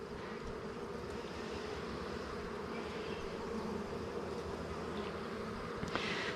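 A honeybee hive hums with a continuous, close buzz of many worker bees during a hive inspection, steady and dense throughout with a brief rustle near the end and no talking.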